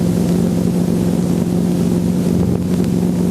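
Training helicopter in flight heard from inside the cockpit, a loud, constant engine and rotor drone with a steady low hum and no pauses.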